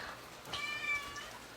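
A cat meows once, faint and somewhat distant, a thin drawn-out cry rising out of a quiet room with no talking.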